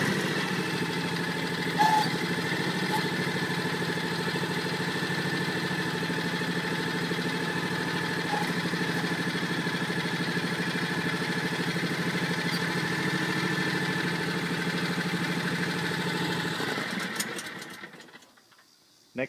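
A small engine runs at a steady idle-like drone on a mini front-end loader during a hydraulic demonstration, continuous and fairly close, then fading out near the end.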